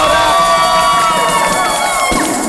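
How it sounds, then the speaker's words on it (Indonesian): Crowd cheering and whooping for Cinta Laura, loud and steady with high excited shouts throughout, a brief dip near the end. "tepuk tangan untuk Cinta Laura"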